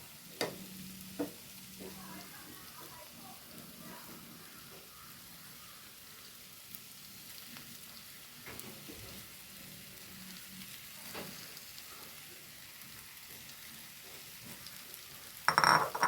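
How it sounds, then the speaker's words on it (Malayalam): An egg sizzles in a hot pan for a masala egg fry with a faint, steady crackle and a few sharp pops, quiet and continuous throughout. "ഇനി ഞാനിതിലേക്ക് മുട്ടയാണ് ഇട്ട് കൊടുക്കുന്നു മുട്ട വെച്ച് കൊടുക്കാം കേട്ടോ"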